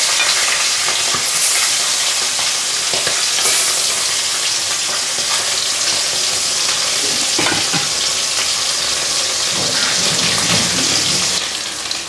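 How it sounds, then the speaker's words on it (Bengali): Fresh cut tilapia pieces frying in hot oil, a loud continuous crackling sizzle with bursts of spattering and stirring noise, close up and unbroken for several seconds. "এবার আমি মাছগুলোকে আমি ভেজে নেবো ভালো করে।"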